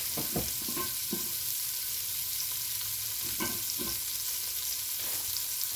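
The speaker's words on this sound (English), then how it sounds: "And you want to just sprinkle the sugar on your onion. Stir it up." Sliced onions fry in a pan with a steady, bright sizzle, while a utensil scrapes and stirs through them in several distinct strokes after sugar is sprinkled over; no talking.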